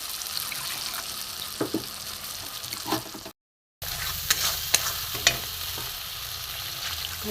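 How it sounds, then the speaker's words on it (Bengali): Spice paste (masala) sizzles in a pan after water goes in, for a vegetarian cauliflower dish: a continuous fizzing hiss broken by spatula scrapes and knocks, with a brief silent gap partway through and no speech. "জলটা দিয়ে দিলাম একটু কষা হোক"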